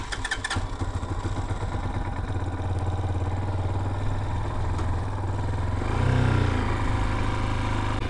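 A Chinese CG motorcycle engine fitted with a Nibbi PWK carburetor runs on a test ride, a close, rapid thumping exhaust that rises in revs toward the end.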